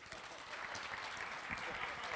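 Audience at a Seoul forum lecture by a professor applauding, a faint, distant wash of steady clapping with a voice speaking over it.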